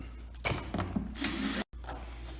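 Screws being backed out of a shipping box holding tin ceiling panels, a steady ratcheting, whirring driver sound at close range with faint clicks, briefly cutting out before resuming.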